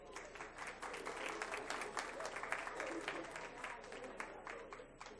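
An audience at a school board meeting claps in sustained applause, a dense even patter of many hands filling the room from start to finish, heard at a distance.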